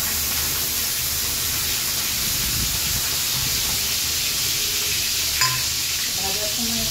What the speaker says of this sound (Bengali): তেল গরম হয়ে গেছে, আমি চিংড়ি মাছগুলোকে দিয়ে দেবো,